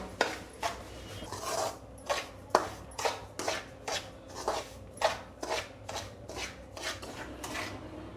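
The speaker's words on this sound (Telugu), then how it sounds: "చూడండి రవ్వని ఇలా కలర్ మారే వరకు పచ్చివాసన పోయేలా ఫ్రై చేసుకోవాలి" Semolina (rava) stir-fried in a pan for laddu, heard as a steady run of sharp scraping and clinking strokes from a spatula against the pan, about one or two per second, close and fairly quiet with no talking.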